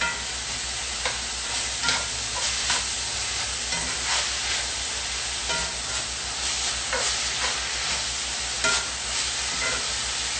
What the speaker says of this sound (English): green beans, pork, shallots, garlic. We'll let this just cook out for a little bit.